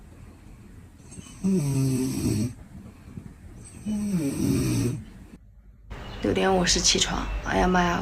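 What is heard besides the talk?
man snoring loudly while sleeping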